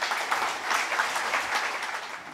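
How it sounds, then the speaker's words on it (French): An audience at a book dedication ceremony in Côte d'Ivoire applauds with steady, dense clapping that stays even throughout, with no voices over it. "sous vos applaudissements"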